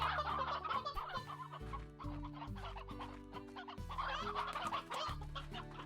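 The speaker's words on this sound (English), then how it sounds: "Do I have glitched chickens? I feel like I've just got chickens that never age." Chickens cluck steadily and loudly in the video game Slime Rancher, with clustered bursts of clucking over a sustained, tonal musical background and no voices.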